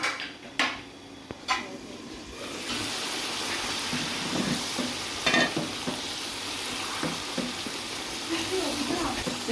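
Achari chicken frying in a pan with a steady, close sizzle, stirred with scraping strokes, and a few sharp utensil clanks against the pan near the start.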